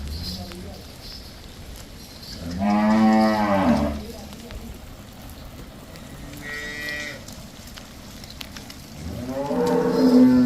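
Cattle at a dairy farm selling cows give two loud, drawn-out moos a few seconds apart, with a fainter lowing call between them.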